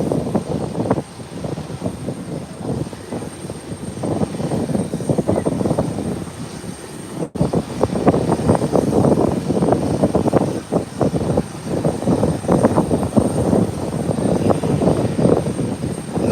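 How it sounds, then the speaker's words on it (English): An American Airlines airliner rolls onto the runway for takeoff at Howard Hamilton International Airport, its engines giving a loud, steady, rumbling roar that continues throughout with no voices. "American Airlines can roll onto the runway"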